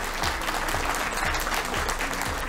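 An audience at a high school debate competition claps for the junior winners, a full steady round of applause with no voices.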